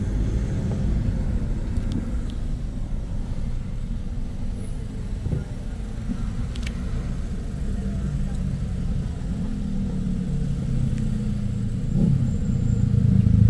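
Cars and heavier vehicles pass on a Guatemala City street, making a continuous low traffic rumble that swells slightly toward the end, with faint background voices.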